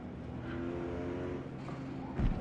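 Race car engine in Forza Motorsport, a steady droning engine tone holding throughout with a louder surge of revving near the end, moderately loud.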